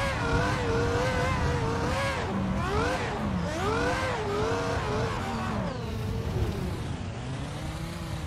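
An F1 car drifting in a racing video game, steered with a MOZA Racing FSR wheel, its engine whining steadily and rising and falling in pitch through revs and slides, loud and continuous with no talk.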